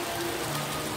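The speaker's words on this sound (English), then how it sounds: "It's raining." Rain falls steadily on surfaces outdoors beside a garden, a close, even patter that continues without a break and without talk.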